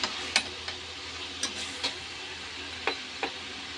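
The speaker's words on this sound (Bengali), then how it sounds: "এখন ভালো করে নেড়ে নেব।" Country chicken with salt and turmeric stirred in a pan as the meat releases oil, a soft background sizzle punctuated by about eight sharp, evenly spaced spatula clicks against the metal.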